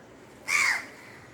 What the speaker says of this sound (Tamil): குட்டி சவுண்டு குட்டி காக்கா கத்துற சவுண்டு கேட்குதாரு